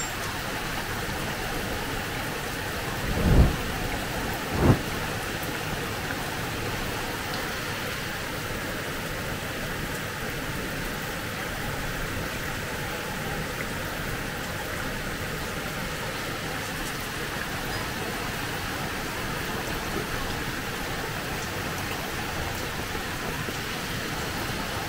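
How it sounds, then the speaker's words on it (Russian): A heavy morning downpour pours down in a steady, dense hiss of rain throughout, with two brief knocks early on and no talking. "ливень."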